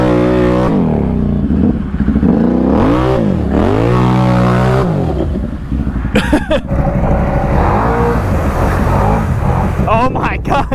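A Can-Am Renegade G3 ATV running without its exhaust, engine revving and idling loudly up close in a muddy setting, with people talking and shouting over it.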